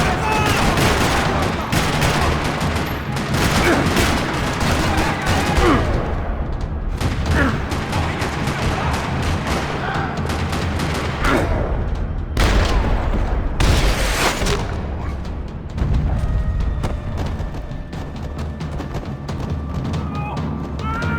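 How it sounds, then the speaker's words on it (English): Sustained gunfire rattles across a parking lot in the Max Payne 3 video game, with dense overlapping shots and bursts forming a loud, continuous barrage and a few brief gaps. "Another parking lot rattling with gunfire."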